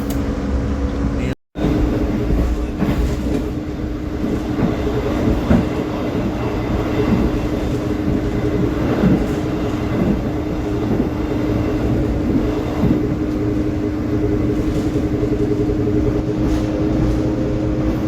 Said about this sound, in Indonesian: ini kita ketemu sama kereta api Bengawan dari Purwosari, tujuan akhir stasiun Pasar Senen